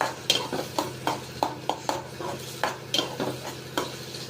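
Chopped onion dropped into a hot tempering of cumin, curry leaves and green chilli, with a spoon stirring and scraping the pan in quick repeated strokes over a soft sizzle, close and clear with no talking.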